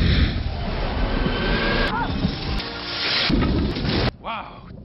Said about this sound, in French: t'as entendu ce coup de tonnerre?